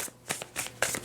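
Tarot cards being shuffled, a few quick papery riffling bursts at close range, separated by brief pauses, with no talking.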